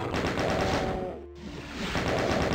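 Rapid chain gun fire in The Ultimate Doom, a dense, loud stream of shots that briefly breaks off mid-burst and then resumes at full volume.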